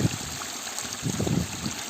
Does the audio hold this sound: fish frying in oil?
no